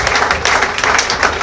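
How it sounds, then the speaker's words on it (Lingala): Church congregation applauding during a French-language worship service, a dense, steady wash of clapping sustained throughout at moderate loudness, with no voices rising above it. "Si vous voulez acclamer pour qu'il fait le bien,"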